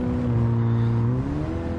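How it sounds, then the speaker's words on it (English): A car's exhaust note in a Gran Turismo 7 replay drones loud and close, a steady humming engine tone whose pitch holds, then eases slightly lower as it goes on. "We gotta watch the replay of this because I gotta listen to that exhaust note."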